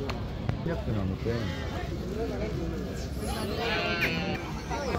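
Sheep bleat repeatedly at a busy livestock market, mixed in with a steady din of crowd noise and nearby voices talking throughout.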